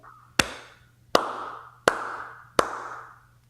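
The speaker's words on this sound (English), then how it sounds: "You got the slow clap." Four slow, evenly spaced hand claps ring out sharply and close, each followed by a short decaying echo in a reverberant room, with nobody speaking.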